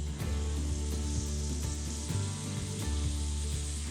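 Leftover turkey sandwich, butter side down in a hot pan over medium heat, sizzling loudly and steadily with a continuous crackle and a few soft clicks, close up and with no talking.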